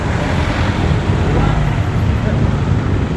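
Steady, dense road traffic roars continuously nearby at a constant loud level, with no distinct pass-bys standing out from the wash of engine and tyre noise.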